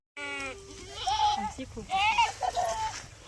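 A goat bleats once, loudly and nearby, while sheep and goats graze at a farm. People then talk over further bleating and rustling.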